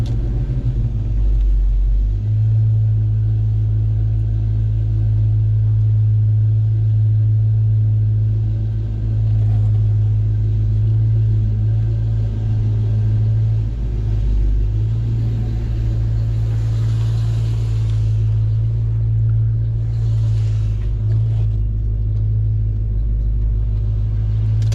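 A 5-liter 1994/95 car engine with an automatic transmission idles steadily nearby, a deep continuous rumble holding throughout with slight shifts in tone and no voices.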